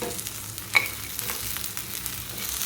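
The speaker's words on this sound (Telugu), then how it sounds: "కర్రీ లీవ్స్, అది కరివేపాకు 2 రెమ్మలు వేసాను." Two sprigs of curry leaves fry in tempering oil for a methi chutney, producing a faint, even sizzle with one brief crackling burst early on.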